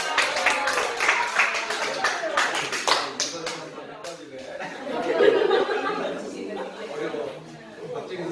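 A church group at a Korean congregation's class claps in a lively patter of overlapping hand claps for about four seconds, then it fades into chatter and light laughter from the crowd.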